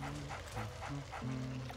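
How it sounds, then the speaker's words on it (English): Dog barking in the Luigi's Mansion video game, a few short yips and bow-wows from a game ghost dog, fairly quiet with a soundtrack underneath. "he'll leave behind a bone, and then Spooky will be attracted to that bone because he's a dog"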